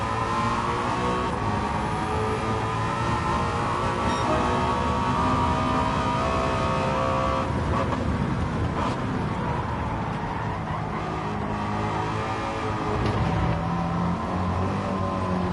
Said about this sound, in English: I don't like those big American V8 sounds, but this one sounds pretty good.